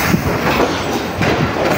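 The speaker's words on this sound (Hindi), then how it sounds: "10 डाउन अल्लामा इक़बाल एक्सप्रेस जो है वो खानेवाल जंक्शन को छोड़ रही है" The Allama Iqbal Express train leaving Khanewal Junction, heard up close as a loud, steady rumble of rolling wheels with rhythmic clickety-clack over rail joints.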